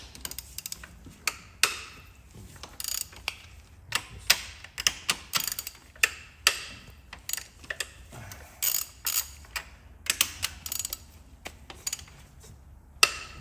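A hand ratchet loosens the 14 mm cylinder head bolts on a Honda Civic engine, giving sharp repeated clicks and clanks in irregular bursts across the clip, close and fairly loud with no talking.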